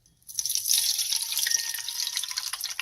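Used frying oil pours from a bowl into a kitchen sink, a steady, fairly loud splashing stream that starts abruptly and keeps running without a break.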